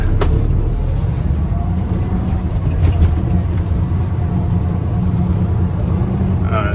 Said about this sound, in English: I can spin around here in the yard.